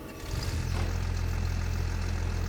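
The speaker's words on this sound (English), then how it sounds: "let's get to our combine here. Let's jump in it, let's quickly unload it" A combine harvester's engine idles steadily in Farming Simulator 25, a low constant rumble rising after a brief start and holding loud and even throughout.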